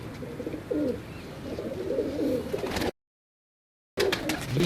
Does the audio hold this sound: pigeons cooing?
yes